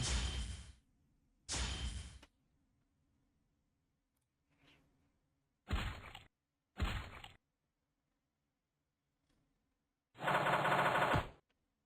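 Cannon attacks in the video game DragonFable come as several short, sharp bursts of rapid-fire blasts, each lasting about half a second, separated by silence and ending with a longer burst near the end.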